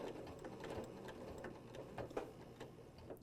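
A sewing machine quilting with a deep oval mini arc template runs a short, steady rhythmic stitching burst to tie off the thread, close and fairly quiet, with a mechanical tick to each stitch.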